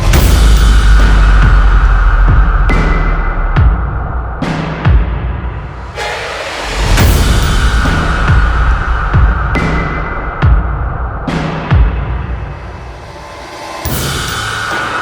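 Live-band backing track from a production bus plays back: dense layered music with punchy hits and sweeping swells, steady and loud throughout, with sharp transient accents recurring every couple of seconds.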